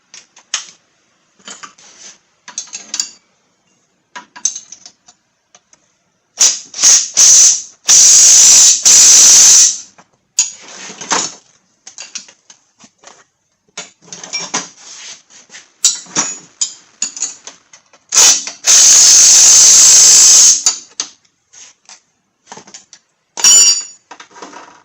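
Strut bolts being tightened on a 2001 Chrysler Sebring: close, loud ratchet clicking in bursts, with two long hissing spray-like blasts between them and short pauses.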